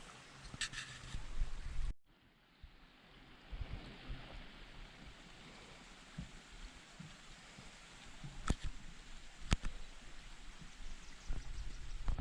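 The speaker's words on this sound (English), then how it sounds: "The sounds of the water," Steady broadband rush of water flowing outdoors on a Mount Roberts hike in Juneau, Alaska, continuous and moderately close, with a few sharp clicks and knocks over it.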